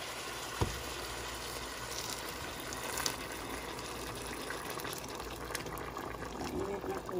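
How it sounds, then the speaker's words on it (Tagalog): Hot water poured into a pot of sinigang with prawns and pompano, a continuous rushing splash and bubbling under a steady kitchen bed, with a voice speaking briefly. "Lalagyan ko ng mainit na tubig."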